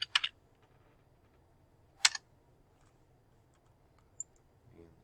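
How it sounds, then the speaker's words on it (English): Computer keys being typed in a quiet room, a short burst of clicks at the start, another sharp cluster about two seconds later and a lone tap near the end, faint and close. "Come down here, you're going to type in pulley"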